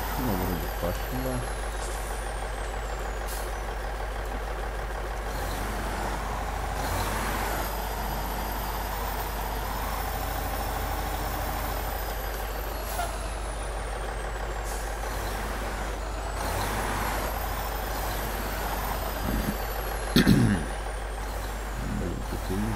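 The DAF XF-105 truck engine in the Spin Tires video game makes a steady, continuous diesel drone and rumble, with whining strain and a short clunk near the end, running loud throughout.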